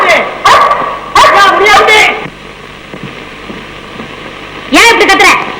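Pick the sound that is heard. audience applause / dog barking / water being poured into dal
dog barking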